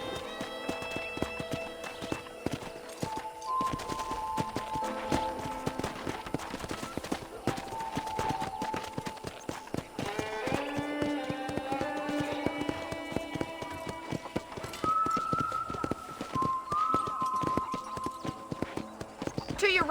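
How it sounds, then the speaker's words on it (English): Steady clip-clop of horse hooves plodding along under a layer of Red Dead Redemption game music, even and continuous throughout. "I picked out a fine horse for you."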